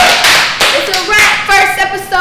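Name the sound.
people clapping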